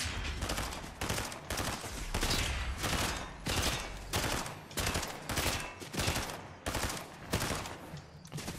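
Rapid bursts of gunfire in a video game, loud repeated volleys in quick succession with brief gaps between them and no talking over them.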